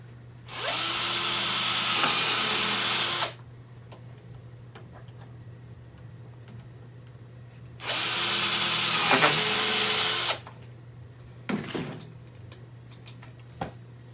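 A power tool drives screws during a 67 Designs mount install in a Jeep TJ. It runs in two steady whirring bursts of about three seconds each with a pause between, then a few short clicks and taps, close by over a low hum.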